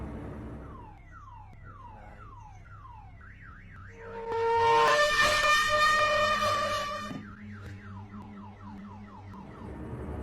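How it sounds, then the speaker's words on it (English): A parked car's alarm cycles loudly through its patterns: repeated descending chirps, a rapid warbling whoop, then a piercing steady tone that swells louder before returning to the warble, heard alone without talk. "His alarm went off, so of course he went to check it out."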